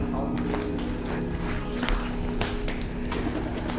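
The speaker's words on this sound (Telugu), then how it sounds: "పావురాలు" Pigeons coo inside a very large cave, soft repeated calls mixed with scattered footsteps and faint background voices.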